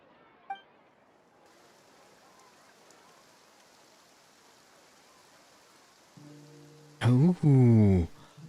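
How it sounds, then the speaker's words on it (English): Rain falls steadily in Genshin Impact, a soft even hiss of raindrops underneath the scene, ending with a loud burst of tonal game music or effects. "Oh, it's getting rainy and dreary."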